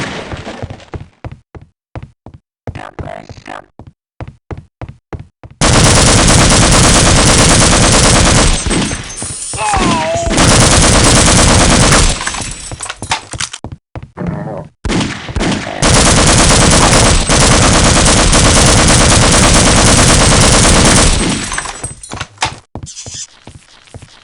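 Heavy automatic gunfire in Half-Life: Opposing Force, two long loud sustained bursts of rapid shots separated by sharp single shots and knocking impacts, close and dominant with no talk.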